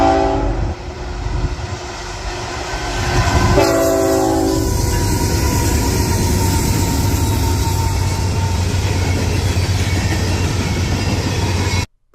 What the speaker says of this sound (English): went to Maryland to film a train